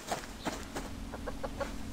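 Level 3 chickens in the video game Subsistence cluck in short, clipped bursts, several birds close by over a faint steady hum, with no talking.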